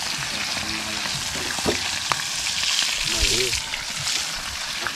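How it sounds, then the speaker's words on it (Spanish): Freshly caught tilapia fry in a pan at a reservoir with a dense, steady crackling sizzle, while people talk intermittently nearby. "Ah, el olor a pescado frito, eso es otro nivel."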